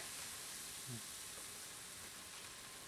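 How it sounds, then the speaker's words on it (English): Loud, steady hissing sizzle as boiling water is poured into a hot pan with flour for green chili enchiladas, a broad continuous frying noise with no voices. "Now we're going to put in some boiling water."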